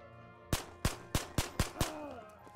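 Six sharp Glock pistol shots in the game Ghosts of Tabor crack out in quick, evenly spaced succession, each loud and close with a short echoing tail, followed by a quieter ring-out.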